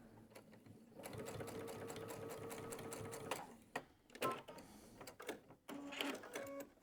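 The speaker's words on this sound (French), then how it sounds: "Je vais lui donner un coup de couture juste pour le fixer en place." Sewing machine stitching a short strap of fabric folded over on itself, a close, steady mechanical whir of rapid needle strokes for a couple of seconds, then short stop-start bursts.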